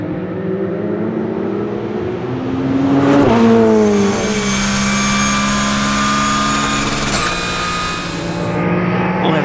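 Race cars, including a Ferrari, tear past on the Dijon Prenois circuit. Loud engine howls rise and fall in pitch as they sweep by, with one sharp surge of revving near the middle.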